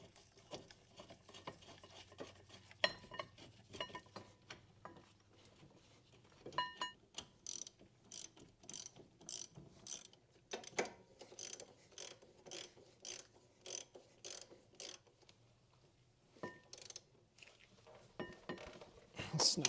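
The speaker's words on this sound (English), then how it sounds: "We're going to get our 19mm bolts, and we're going to reinstall those." A ratchet wrench tightens 19mm rear brake caliper bolts on a Nissan X-Trail T30, giving bursts of quick clicking strokes up close, with quieter handling noises and pauses between the runs.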